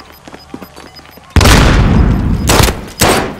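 In a squad-based shooter game, a grenade detonates in a sudden loud boom that rumbles on, followed by two more heavy blasts or gunfire bursts, after a quieter stretch of light clicking and distant shots.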